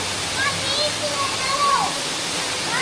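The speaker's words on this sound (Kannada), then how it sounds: "ಎರ್ಮಾಯಿ ಜಲಪಾತ" The Ermayi waterfall gives off a steady, even roar of falling water close by, and voices talk over the constant rush.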